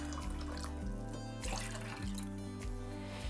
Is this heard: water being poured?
yes